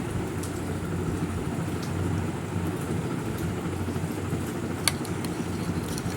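Heavy rain and wind outside a kitchen, a steady, dense hiss of falling rain with gusty noise that runs continuously and alone, with one brief sharp tap near the end.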